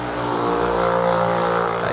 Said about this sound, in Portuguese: Aí passa muito carro aqui, moto.